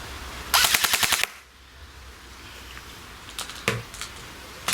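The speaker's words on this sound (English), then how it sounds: "How does the gun sound when you shoot it?" A Bulldog ST Alpha airsoft gun fires a quick full-auto burst of about ten sharp, close cracks, followed after a lull by two or three isolated single shots.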